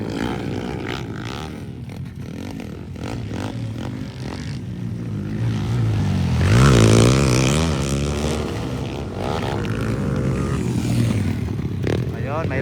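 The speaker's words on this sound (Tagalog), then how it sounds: "Grabe ka mga power ng motor." Underbone motorcycles racing in an open-class final motocross heat at Cabanglasan: engines rev and whine past, swelling loudest midway, with a commentator talking over them throughout.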